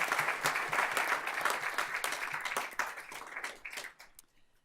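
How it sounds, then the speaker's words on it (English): Audience applause rings out at a school awards ceremony, dense steady clapping from a crowd that thins and fades away over the last second. "so let's give her a round of applause."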